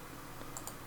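Two quick, faint computer mouse clicks close together while building a Shopify website, set against a quiet background hum.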